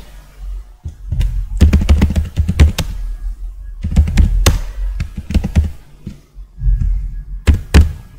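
Computer keyboard keys tapped while an SQL database command is entered, arriving as three close bursts of quick, crisp clicks separated by short pauses.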